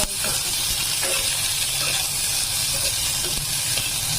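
Green chillies frying in oil make a steady close hiss and sizzle with faint pops, even in level from start to finish, with no talking.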